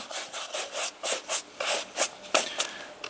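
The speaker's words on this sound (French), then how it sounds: "S'il s'agit de cuir nubuck, comme pour tous les cuirs d'ailleurs, dépoussiérez à la brosse" A brush sweeps dust off Birkenstock nubuck leather in about ten quick, even back-and-forth strokes, close and fairly soft.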